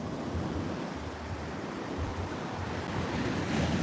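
Rough ocean waves break along Muaro Bayang beach in Pesisir Selatan during bad weather, producing a continuous broad roar of surf mixed with gusting wind noise, with the wash swelling slightly louder toward the end.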